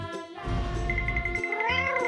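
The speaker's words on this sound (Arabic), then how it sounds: "وأهو القط بتاعي" A cat in the Avatar World video game meows in drawn-out, whining calls that rise and fall in pitch, loud and close with no voices.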